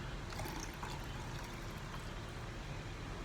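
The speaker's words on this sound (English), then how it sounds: "So I'll pour this all back in." Lab solution for an SDS-PAGE gel setup poured back into its container, a steady, continuous liquid stream heard close up, running unbroken throughout with no talk.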